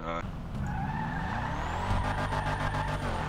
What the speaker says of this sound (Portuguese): Olha o carro, mano. O barulho que faz, velho.